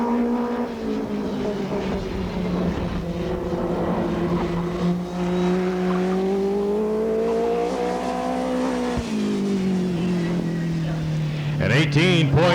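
A USAC National Midget race car runs a qualifying lap, its engine droning loud and steady, then falling and rising again as it passes. A track announcer talks over it throughout.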